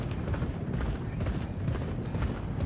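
Galloping hooves pound in a dense, continuous rumble during a horse racing video game, steady and close throughout the short stretch.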